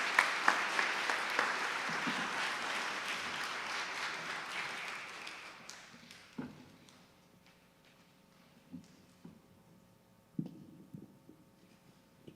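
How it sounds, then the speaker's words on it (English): Audience applause at a benefit concert for Ukraine, loud crowd clapping that gradually thins and dies away after about six seconds, leaving scattered faint handclaps and light room noise. "Let's put another round of applause together for the incredible performances today"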